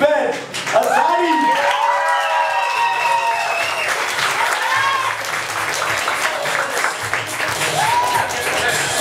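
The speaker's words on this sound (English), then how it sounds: "put your hands together for Mr. Ben Azadi" Audience applauding a lecture speaker: sustained clapping from a full room, with an amplified voice talking over it.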